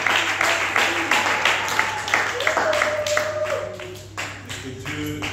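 A church congregation claps together in a steady, fairly loud burst of applause, with a sustained sung or hummed tone running beneath the clapping.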